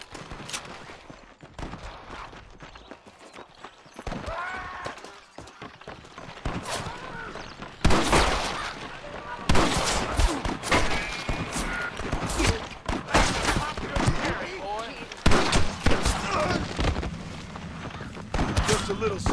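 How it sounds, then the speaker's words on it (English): Bursts of gunfire crack repeatedly in a Red Dead Redemption game scene, some sharp and close, with people talking and shouting between the shots. "I can hear more gunshots."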